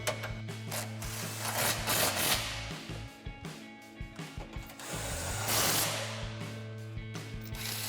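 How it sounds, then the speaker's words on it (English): An 18mm socket ratchet tightening exhaust bolts on a Jeep Gladiator JT, a run of close clicking pawl ratchets in short bursts over a continuous background hum and rustle, no talking. "Then we can take our 18mm socket and tighten these down."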